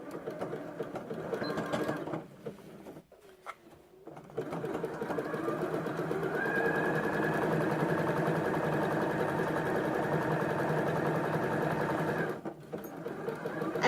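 A sewing machine stitches a small zigzag along a fabric hem, whirring in steady rapid bursts with short pauses between runs, close and clear with no talking.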